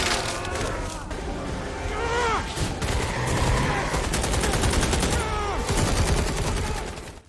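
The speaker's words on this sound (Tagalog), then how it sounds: "Agad siyang bumaril sa nilalang na natakot at tuluyang tumakas." Bursts of gunfire in an action movie scene in a jungle, with rapid overlapping shots over a loud, dense soundtrack, and voices shouting and speaking over the gunfire.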